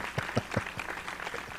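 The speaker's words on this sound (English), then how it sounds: "cue the applause" Canned applause sound effect cued during a real estate podcast, faint clapping with a few sharp claps at the start blending into a brief wash, heard quietly.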